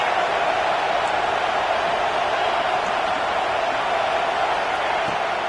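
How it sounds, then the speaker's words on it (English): A dense, steady roar of a large stadium crowd at a football game fills the space, loud and unbroken with no distinct voices standing out. "This crowd bringing the energy and noise early."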